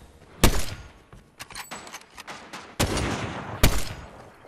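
Gunfire in Fortnite during a squads match: several sharp, loud shots ring out, spaced irregularly across the moment, with a burst of rapid smaller cracks between the biggest blasts.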